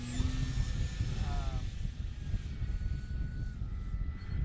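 An airplane engine drones steadily and loudly in a flight stunt video game, a continuous low roar with shifting tonal whine, alone without talk.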